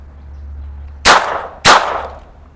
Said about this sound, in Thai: ทดสอบยิงด้วยลูกโอคุซานนะครับจำนวน2 นัดนะครับผม